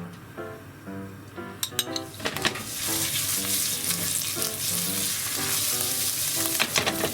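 Momoya chopped garlic dropped into generous sesame oil in a frying pan, starting with clinks of a spoon or jar, then swelling into a dense, crackling sizzle that continues steadily.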